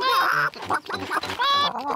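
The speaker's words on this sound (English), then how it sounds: "Peppa, George, would you like to feed corn to the chickens?" Cartoon chickens in a Peppa Pig farm scene, a quick series of bright, squawky clucks in short bursts, close and loud, with brief gaps between calls.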